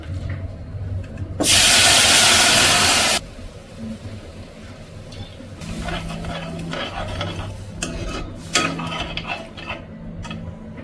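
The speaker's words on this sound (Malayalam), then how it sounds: "നമുക്കതിലേക്ക് വേവിച്ച് വെച്ചിരിക്കുന്ന കടല കുഴിച്ചു കൊടുക്കാം" Boiled chickpeas land in hot frying masala with a loud burst of sizzling, then a spoon scrapes and stirs with clinking metal taps.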